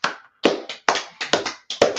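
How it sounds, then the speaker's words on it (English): A small group claps for a class in a few uneven bursts of close, sharp hand claps with short pauses between them, not a full sustained ovation. "So let's clap it up for class, man."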